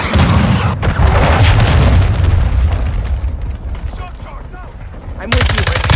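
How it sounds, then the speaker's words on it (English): Heavy booms and rumbling blasts of a friendly cruise missile strike fill a Call of Duty Modern Warfare 2 match, mixed with gunfire. The blasts are loud and dense before they fade, and a sharp burst returns at the end. "Friendly cruise missile inbound."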